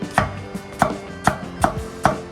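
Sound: chopping onion on a board

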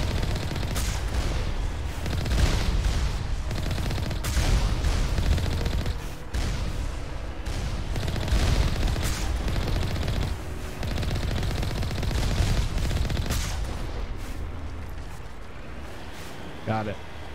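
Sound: explosions and gunfire in the video game Mass Effect

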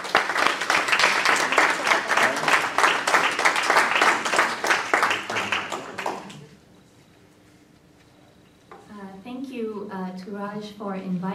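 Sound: audience applause welcoming a lecturer

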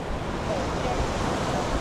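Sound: churned-up ocean waves at Clearwater Beach

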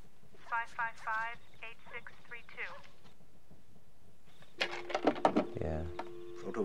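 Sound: telephone dialing tones in War Games movie

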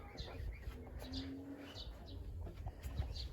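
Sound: sparrows chirping near chicken coop

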